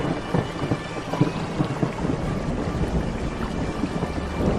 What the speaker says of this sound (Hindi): तभी जोरदार बिजली कड़की